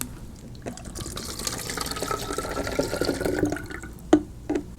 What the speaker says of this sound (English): I have 1 cup of hydrogen peroxide in here. We'll pour it into the bottle.